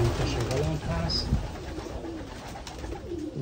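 Pigeons coo softly while bathing near a pigeon loft, low rounded calls repeating under a voice and outdoor background noise.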